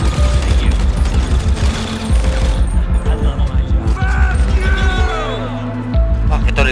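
Rapid bursts of gunfire from a zombie survival session in the video game GTA 5, dense and loud, with repeated shots and thumps through the whole stretch, mixed with game sound effects.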